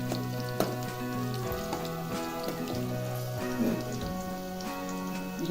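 Chillies and garlic sizzle in hot oil in a pan, a steady crackling hiss throughout with a few sharper pops, heard close and under a faint tonal background hum.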